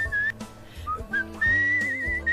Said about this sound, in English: the whistling mechanic in this is actually so fun